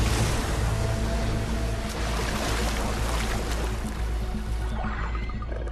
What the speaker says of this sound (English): This time they unleash a much more powerful wave with astonishing accuracy.